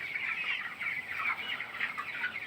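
A flock of chickens on a poultry farm in winter clucks steadily in a dense, continuous chorus, close and even in level throughout, with no talking.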